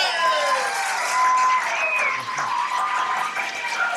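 An audience at a fiddle music event breaks into broad, sustained applause that fills the room, with ringing fiddle tones sliding through it.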